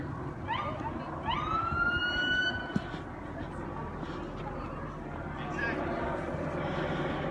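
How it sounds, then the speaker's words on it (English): A police car briefly flicks on its siren, giving a couple of quick rising chirps early on over road and traffic noise, with a faint later blip. "they just kind of flicked on their little boop chirp chirp siren"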